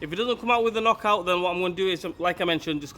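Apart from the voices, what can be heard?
No everyday noise stands out behind the speech.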